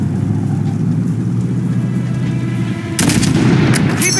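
Rapid gunfire in a video game, aimed at the tires of an armored vehicle, bursts out loudly after a steady low engine rumble and continues in dense, overlapping shots; no voices.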